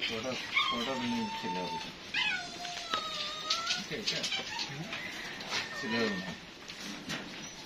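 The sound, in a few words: dogs at a pet shop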